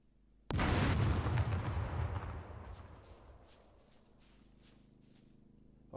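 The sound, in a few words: frag grenade explosion against turret, video game SCUM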